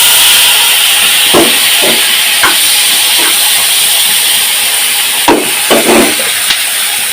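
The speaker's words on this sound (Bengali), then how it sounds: "এখন এই পেঁয়াজ এই গরম তেলে দিয়ে দিব।" Sliced onion sizzling in hot oil just used for frying fish, a loud steady hiss punctuated by a few sharp spatters and clinks of a utensil against the pan.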